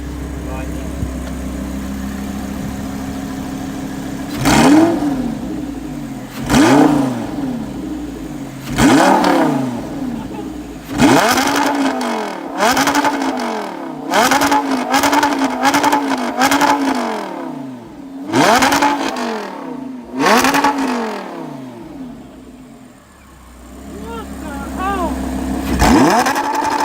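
An Audi R8 V10 Plus fitted with a Capristo exhaust revs hard in a tunnel, with repeated loud throttle blips and swooping rises echoing off the walls across the whole stretch.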